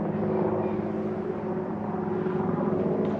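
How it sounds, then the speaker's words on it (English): A helicopter drones overhead above open cattle range, with a steady, throbbing rotor rumble that holds constant throughout, moderately loud and with no voices. "I got a helicopter flying above me."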